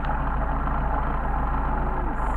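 A Mercedes 190SL fitted with Solex carburetors idles at about 700 RPM just after a hot start. Its steady, even low-pitched throb runs close and fairly loud with no voices.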